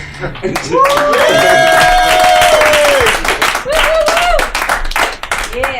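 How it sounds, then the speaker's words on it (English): Comedy show audience claps and whoops loudly after a stand-up set, dense applause filling the room with a sustained cheering voice over it, easing off toward the end. "give him a round of applause"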